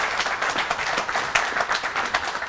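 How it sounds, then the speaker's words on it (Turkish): Studio audience applause fills the room with dense, continuous clapping from many hands, loud and close, rippling unevenly without any voices on top. "Sizi böyle alıyoruz alkışlarla."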